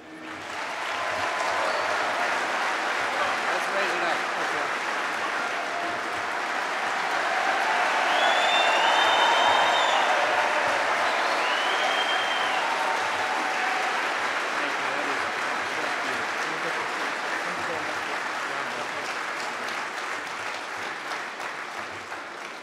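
A large audience at the Academy's Sylvanus Thayer Award ceremony honoring Gary Sinise gives him a sustained round of applause, dense and steady clapping that swells in the middle, with a few whistles on top, before slowly tapering.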